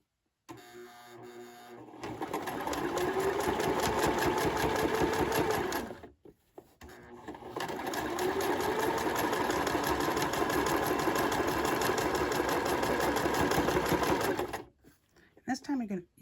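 A sewing machine runs in two long steady bursts while stitching a small micro tote bag, loud and close, with a brief pause between runs and a few clicks at the end.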